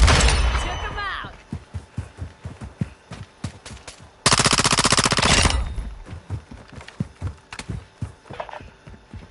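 Video game gunfire in rapid bursts, a loud long automatic volley at the start and another mid-way, with scattered single shots and galloping hoofbeats between, while a voice speaks over it.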